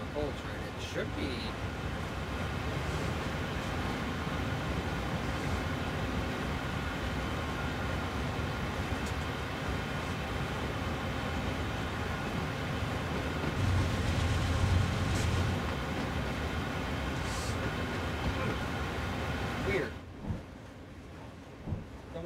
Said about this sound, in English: We are pulling the coal train.